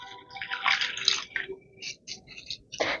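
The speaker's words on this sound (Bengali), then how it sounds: "এবার এটাকে আমি 2-3 বার করে একটু জল পাল্টে পাল্টে ধুয়ে নেব।" Thin flattened rice (chira) is rinsed in water in a kitchen, with intermittent splashing, swishing and dripping bursts that come close and fairly loud, separated by brief quiet gaps.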